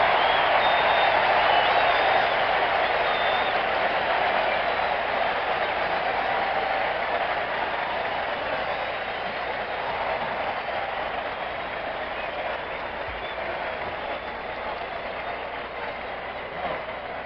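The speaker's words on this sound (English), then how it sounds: "this big crowd has come alive" A large crowd roars steadily at a 1967 Red Sox vs. Twins baseball game after a double to left center, a broad, sustained wash of cheering that slowly eases over time.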